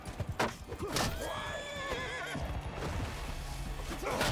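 A horse neighs loudly in Mount & Blade II: Bannerlord, a long, wavering whinny up close, with thuds of hooves and the horse falling in a busy battle din.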